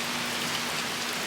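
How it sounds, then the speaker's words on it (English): Heavy rain pours down during a storm, a steady dense wash of falling water with no break, close and continuous, no voices present. "I don't know if you guys can see it, but it is storming and raining"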